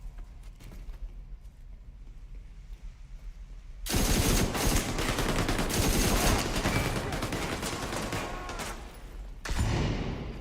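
Sustained AK rifle fire in The Division 2, a loud dense burst of rapid shots starting abruptly and running for several seconds before a short break and a fresh volley.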